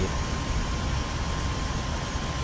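An F-86 jet engine roaring during takeoff in the DCS World flight simulator: a steady, loud, broadband rush of thrust that holds constant throughout, with no voices.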